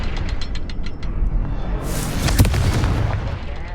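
A Confringo fire spell from Hogwarts Legacy blasts with a sudden bright burst and a booming impact midway, after a few quick ticking hits, set within a game soundscape.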